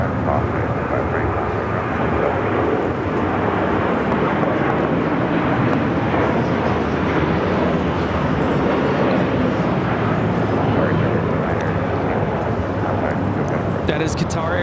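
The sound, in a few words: Qatar Airways Airbus A350-1000 taking off at LAX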